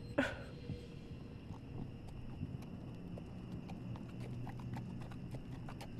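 Horse hooves clop steadily in The Walking Dead video game, a sharp strike at the start followed by a quieter, even rhythm of footfalls over a low ambient bed.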